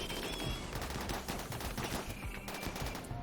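Rapid automatic gunfire in a Rimworld base assault on mechanoid turrets, dense overlapping bursts of shots crackling loudly without pause for a few seconds.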